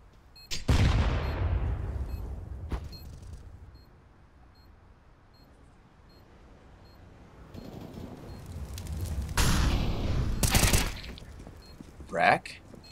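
Gunfire in a Counter-Strike match on the Overpass map, in a sharp loud shot followed by a long decaying tail. Softer in-game noise builds later and a second burst of firing comes near the end, while a commentator talks over it.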